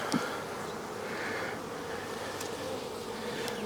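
Honeybees humming steadily from an open hive during a second-week inspection, a dense continuous buzz close to the listener with no talk.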